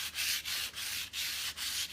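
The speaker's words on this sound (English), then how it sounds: "and I'm going to take the sandpaper" Sandpaper rubbed over stained, painted wood, steady back-and-forth strokes of harsh scratchy noise in an even rhythm, close and alone.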